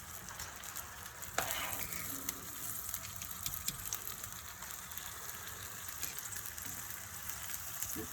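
Ricotta gnocchi fry in a frying pan with a soft, even sizzle and hiss that runs throughout, broken by one light knock near the start.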